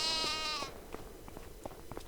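A single loud sheep bleat in the Farming Simulator 25 video game opens the moment, followed by softer clicks and faint background sounds.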